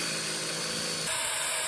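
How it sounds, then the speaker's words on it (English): A hardened drill bit bores through steel plate during a vintage chopper restoration: a continuous high whine close to the microphone that shifts pitch partway through the cut, with no talking. "A hardened drill bit cuts cleanly through the steel plate, clearing a precise path for new hardware."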